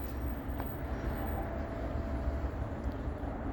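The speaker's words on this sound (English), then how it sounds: "here comes this train." A Norfolk Southern freight stack train led by a Dash 9 locomotive approaches, a steady low rumble of wheels and engine heard from a distance, fairly quiet and continuous with no talking.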